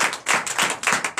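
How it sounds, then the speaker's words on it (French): A church congregation at a Sunday service in Comè, Benin, bursts into applause. Hands clap in quick, uneven bursts at close range, filling the short moment with no talk. "Donnez l'acclamation à sa parole."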